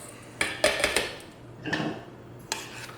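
Couscous poured into a pan of boiling water, with a few clattering knocks of utensils against the metal pan and soft scraping between them, close by and fairly quiet.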